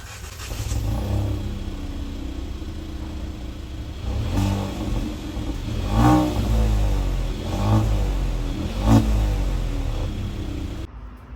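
A Hyundai i20 N Line hatchback engine starts and then settles into a steady idle, broken by four sharp, loud revving bursts spaced a couple of seconds apart, close by with no talk.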